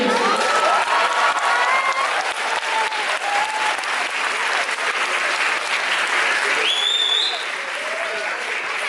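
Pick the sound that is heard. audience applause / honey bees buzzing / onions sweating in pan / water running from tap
audience applause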